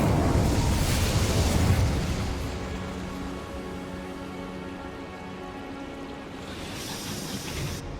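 Incendio fire spell cast in Hogwarts Legacy, a loud roaring whoosh of flame at the start that fades into a softer sustained crackling rush.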